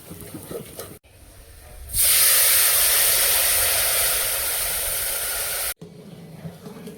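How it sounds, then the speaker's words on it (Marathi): Green chillies roasting in a pan after coconut make a sudden loud, broad hiss that holds steady for about four seconds before cutting off, with quieter cooking noise before and after. "मिरच टाकले मिरच असं छान भाजून घेतो"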